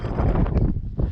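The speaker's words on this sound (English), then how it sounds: "Got some good wind here" Strong gusts of wind roar across an open kite-flying field, buffeting the microphone in a loud, steady rush with brief surges and dips.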